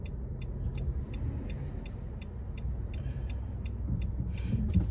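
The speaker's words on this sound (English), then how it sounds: "So much traffic." Steady road rumble and passing traffic are heard from inside a moving car, with a low engine drone and a regular ticking like a turn signal running throughout.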